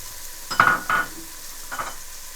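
Yellow bell pepper hits a hot frying pan with sharp sizzling bursts, two loud hisses close together and a fainter one after, mixed with light scraping as it is stirred.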